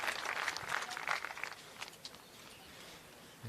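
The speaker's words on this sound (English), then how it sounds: "Listen to the crowd." A crowd applauding at a world bowls championship men's triples final: faint, distant patter of clapping that is strongest at first, then thins out and fades to a quiet hall.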